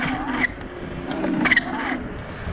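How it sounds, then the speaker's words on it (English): A Bronco 11 Xtreme 8400W electric scooter accelerates hard and its wheel spins, giving a steady motor whine with scraping tyre noise that swells to a brief peak midway through. "gonna accelerate hard now, and it just wheel spins, literally wheel spins, even at 30"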